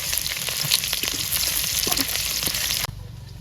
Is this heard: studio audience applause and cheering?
no